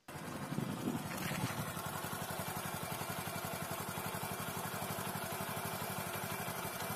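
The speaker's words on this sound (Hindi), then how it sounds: "तो बाइक को ऑन कर देते हैं 10 मिनट के लिए।" A Bajaj motorcycle engine idles at a steady rhythmic putter while warming up before an oil and filter change, close and continuous with faint mechanical clatter, no voices.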